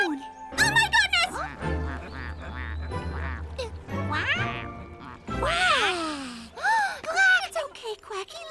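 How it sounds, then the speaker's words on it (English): Cartoon ducks quack loudly in a children's animated show, with bursts of nasal, squawking calls mixed among lively character voices and music throughout. "Let's get away from these ducks."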